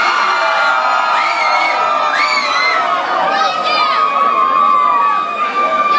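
A crowd at a Halloween costume contest cheers, whoops and whistles loudly and continuously, with children's shrill shouts rising above the roar throughout.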